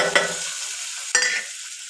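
Potatoes fry in a pan with a steady, close, loud sizzle, broken twice by the clatter of a stirring spatula.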